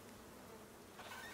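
Bees buzzing in the survival video game Icarus, a steady insect drone that holds throughout and swells slightly louder toward the end, with no talk over it.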